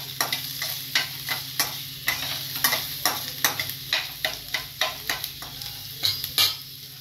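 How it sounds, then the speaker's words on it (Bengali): Onion frying in a pan, stirred with quick, regular spatula scrapes over a continuous sizzle, close and clear, with a low steady hum underneath and no voices. "পেঁয়াজটা একটু ভেজে নিচ্ছি।"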